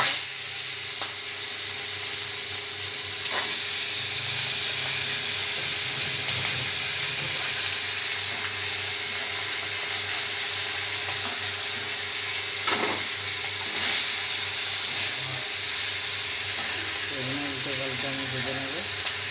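Shating fish heads frying in hot oil while a Bengali fish curry is made: a steady, even sizzling hiss that runs throughout, with occasional small pops and a voice speaking briefly near the end.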